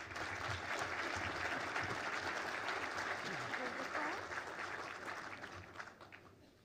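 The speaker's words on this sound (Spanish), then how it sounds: "licenciado Francisco Ayllón López, a quien recibimos también con un fuerte aplauso." An audience at an education forum applauds to welcome a speaker, sustained crowd clapping heard from a distance with faint voices beneath, slowly fading toward the end.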